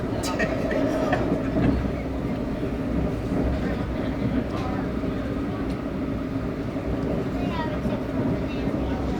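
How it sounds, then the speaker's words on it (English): A Brightline higher-speed passenger train in Florida rumbling steadily along, a continuous low mechanical roar with faint squeals and rattles throughout. "Wow, on a new train. The Brightline train."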